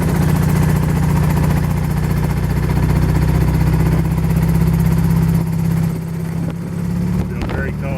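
Suzuki Burgman 650 scooter engine running on the road, suspected of a fouled plug and skipping, a steady low loud drone that dips and wavers briefly near the end.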